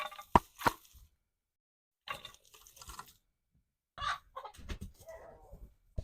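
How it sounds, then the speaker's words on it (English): Chickens cluck in short, scattered bursts close by, with quiet gaps between the calls. "Now I'm gonna run the chickens over this area"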